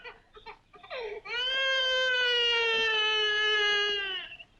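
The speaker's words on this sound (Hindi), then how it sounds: "बच्चे के रोने की आवाज।" A baby wails in one long, loud, sustained cry close by, with a few shorter whimpers leading into it and no talk over it.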